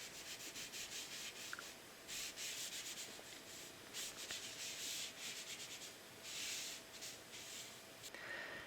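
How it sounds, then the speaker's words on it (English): A dry towel is rubbed back and forth over stenciled paper coated in Distress Oxide ink, giving soft, close, repeated scratchy swishing strokes in an uneven rhythm. "taking a dry towel and rubbing it over the top afterwards left a very nice effect of light and dark with that stencil pattern"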